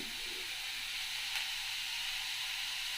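Vegetables and curry leaves sauté in a pan with a steady, moderately loud hiss of frying that stays even throughout, with no voices.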